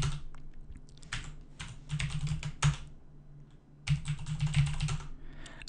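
Bursts of rapid key clicks on a computer keyboard as a database command is typed into a MySQL terminal, close and clear, arriving in several quick runs separated by short pauses.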